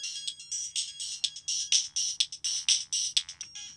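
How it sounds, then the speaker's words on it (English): A default phone ringtone plays alone, a bright, chirpy run of short rhythmic electronic notes lasting a few seconds at a modest level. "Default ringtone. Funky and fresh."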